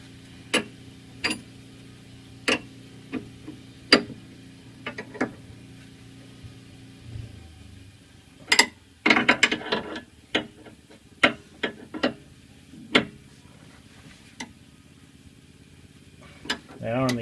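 Ratchet tightening the nuts on Subaru rear sway bar links, a series of sharp, irregular clicks and short ratcheting bursts, close and fairly crisp, with a brief low hum early on and quiet pauses between strokes.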